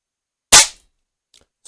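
One sharp, sudden shot from a Diana P-Five air pistol firing 0.28 g pellets cracks close by against silence, then a faint click follows just afterward.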